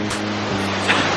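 A waterfall in Kyrgyzstan pours in a steady, loud, broadband rush of falling water close by, with no talk over it.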